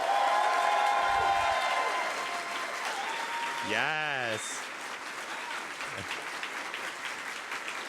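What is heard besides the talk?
audience applause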